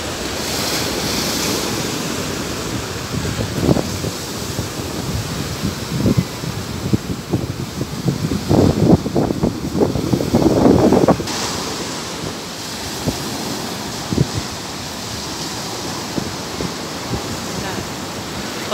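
Surf waves breaking on a Zambales beach, a steady wash of surf with several louder crashing bursts midway, wind noise over the microphone, no talk.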